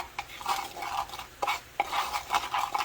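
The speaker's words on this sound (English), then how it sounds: "Just gonna go ahead and mix this up." A thick low-carb burrito filling thickened with xanthan gum being stirred in a pan, rhythmic scraping strokes of a utensil against the cookware with a faint sizzle beneath.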